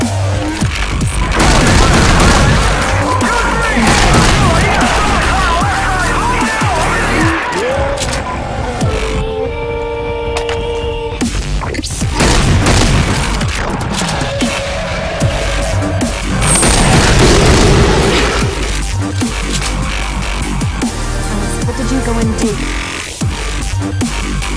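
Pipe bomb blasts in the zombie shooter Left 4 Dead 2 come as a run of loud, booming bursts packed together over dense game noise, with a short lull midway before the blasts resume.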